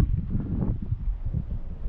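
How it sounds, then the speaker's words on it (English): Strong wind sweeps across an Appalachian Trail mountain ridge, buffeting the microphone in low, uneven rumbling gusts that rise and fall, fairly faint overall, with no talking. "It is extremely windy right now."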